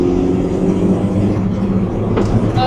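A 300bhp track car's engine runs at full throttle, a loud, sustained roar heard from inside the car, with no talk.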